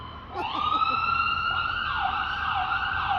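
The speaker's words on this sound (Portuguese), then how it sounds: "Deixa a ambulância passar." An ambulance siren wails nearby in rising and falling sweeps, loud and continuous over low traffic rumble outdoors.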